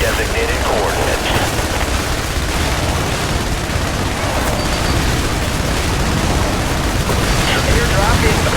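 Airstrike explosions and gunfire in the video game IS Defense, a loud continuous roar of blasts and rattling fire blended with battlefield noise, with voices calling out over it.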